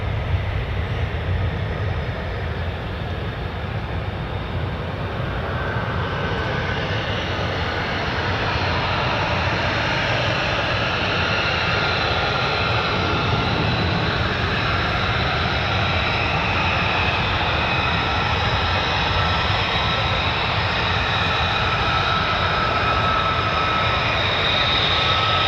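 An F-15E Strike Eagle fighter jet from the USAF 48th Fighter Wing roars past at an air show, a loud continuous engine rumble and rushing whine sustained throughout without speech.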